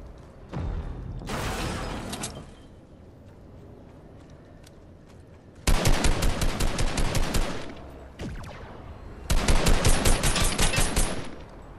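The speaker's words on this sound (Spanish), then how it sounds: "¿Quién está disparando, Javi?" Rapid bursts of automatic gunfire from the video game Fortnite, three loud sustained volleys with brief pauses between them, close and dominant, with faint scattered shots in the gaps.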